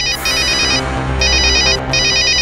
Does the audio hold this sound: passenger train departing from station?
no